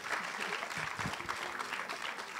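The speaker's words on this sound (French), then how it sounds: "Oui, vous pouvez l'applaudir." Audience applause at the opening night of a film-week screening in Paris, a steady wash of clapping from a seated crowd with a voice faintly under it.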